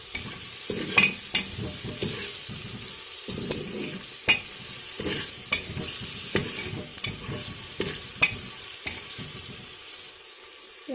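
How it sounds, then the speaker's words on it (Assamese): Onions fried with cloves, cardamom and bay leaf, now with ginger garlic paste mixed in, are stirred in a pan for egg biryani: a steady sizzle under repeated scraping strokes of a spoon, close and clear, with no talking. "তাৰ পাছত ইয়াতে মই আদা নহৰুৰ পেষ্টটো মিহলি কৰি দিছোঁ"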